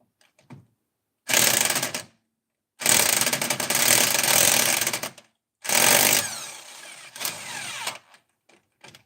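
A ratchet wrench turns a socket in three long, loud bursts of fast metallic clicking separated by silent gaps, heard up close, followed by a few softer, scattered clicks.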